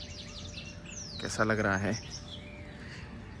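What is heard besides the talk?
birds chirping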